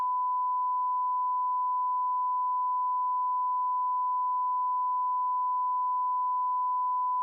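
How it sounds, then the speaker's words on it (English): A censor bleep covers speech about a family home for sale, one long, unbroken pure tone that holds at a steady level for about seven seconds and then cuts off abruptly. "So obviously I had to beep out that serious issue with the home."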